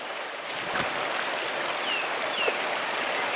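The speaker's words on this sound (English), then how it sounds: "Shrine of Saint Seisha, waterfall." A waterfall at a forest shrine in the game Pentiment pours as a steady, dense rush of water, continuous and evenly loud, with a few faint bird chirps above it.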